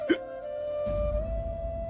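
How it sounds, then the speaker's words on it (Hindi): A single sharp hiccup from a person comes right at the start, close and clear, followed by a low sustained tone and background murmur. "आपको अभी भी हिचकियां आती हैं?"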